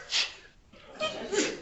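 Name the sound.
sneeze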